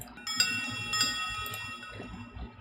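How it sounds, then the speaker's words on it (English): Tibetan wind chimes ring out as a played sample, with several bright, shimmering metallic strikes of mixed, somewhat atonal pitches that linger and fade, quiet and alone. "The next sound I have is wind chimes, and these are also, I called them Tibetan wind chimes"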